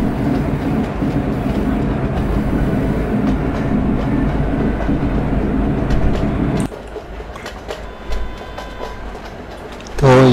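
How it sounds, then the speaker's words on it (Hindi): Long passenger express train with four locomotives slowly picking up speed in the MSTS Open Rails train simulator, a steady loud rumble with rhythmic wheel clatter that drops in intensity partway through, with a voice talking. "बड़ी छा स्टेशन के निकलने के बाद हम अब धीरे धीरे अपनी ट्रेन को रफ्तार दे रहे हैं"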